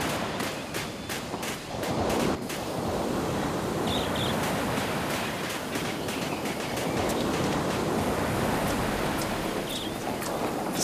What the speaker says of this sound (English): Sun, sand, and surf.